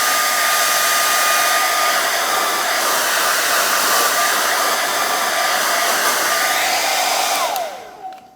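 A hair dryer blows hot air on the edges of a synthetic wig, a steady, loud, close whirring rush that holds for about seven seconds. It then winds down quickly as it is switched off.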